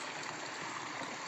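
A flowing mountain stream with clear water in the hills of Ciloto, Puncak, Cianjur gives off a steady, soft rushing and gurgling wash, continuous and fairly faint, with no voices.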